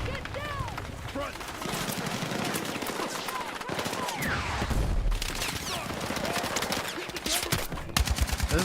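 Battlefield video game gunfire, sustained automatic bursts and shots crackling near and far across a busy battlefield mix, with voices and in-game callouts running underneath.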